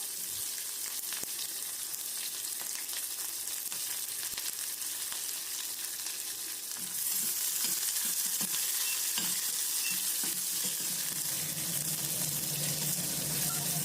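Onions fry in a pan for mint peas rice, a dense steady sizzle that grows louder and brighter halfway through, with faint stirring clatter.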